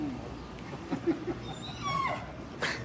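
A dog whimpers softly outdoors during a police patrol's National Night Out event, a few faint high whines over a murmuring background.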